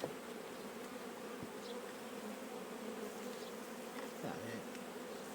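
Honeybees buzz steadily around an opened hive with frames of brood, a dense continuous hum with occasional individual bees passing close, no voices.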